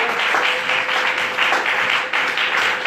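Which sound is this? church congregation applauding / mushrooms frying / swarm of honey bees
church congregation applauding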